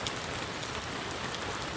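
Rain falls steadily during an outdoor fishing trip, a close, even patter and hiss with no voices over it.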